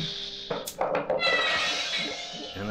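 A cat yowls and cries in a loud, agitated burst amid bangs and thumps, with its wailing calls running continuously after an initial knock.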